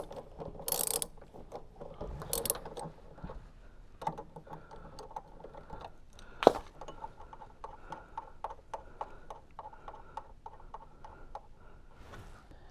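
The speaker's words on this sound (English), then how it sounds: "Unscrew the centre nut using your 10mm socket set." A 10mm socket ratchet loosening the centre nut on a Beko washing machine heating element gives rapid, close pawl clicks in bursts, with a sharper knock partway through and steady ratcheting after it, with no talk.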